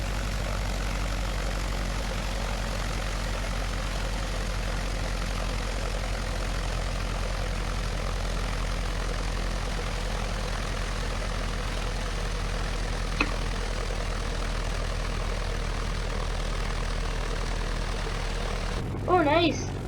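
Aircraft engine idling in the FlightGear flight simulator game, a steady, even low drone that holds throughout, with a brief click midway and a short burst of noise near the end.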